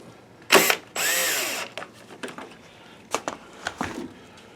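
A power drill drives screws into a laser projector during a fan repair, with two loud whirring bursts, the second longer, followed by several short ratcheting pulses and clicks.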